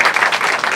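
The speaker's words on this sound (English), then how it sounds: "Give them a big round of applause." Loud, dense applause from an audience at a cook-off at the Sheffield Food Festival, a steady wash of many hands clapping.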